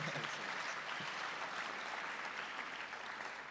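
Applause from a literature festival audience in Berlin rings out steadily, faint and distant, with no voices over it.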